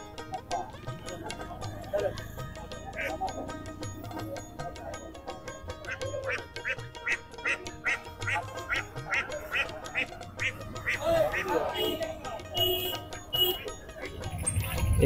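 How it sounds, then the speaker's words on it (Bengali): Ducks quack repeatedly at a busy village livestock market where Chinese and local ducks are sold, the calls in quick bursts among crowd noise and people talking. "চীনা হাঁস বিক্রি হচ্ছে, দেশি হাঁস, সকল ধরনের হাঁসই পাওয়া যাচ্ছে।"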